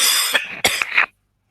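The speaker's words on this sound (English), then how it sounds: "Please excuse me, I just need to cough again, this silly infection." A person with an infection coughs three or four times in quick succession, sharp and close, followed by silence.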